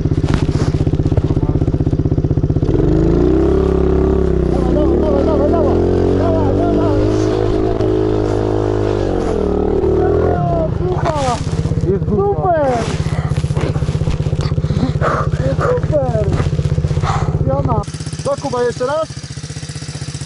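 An MRF80 pit bike motorcycle holds full throttle on a big gravel pit track, a loud, sustained engine roar with rising and falling revs throughout, close to the listener, dropping off near the end.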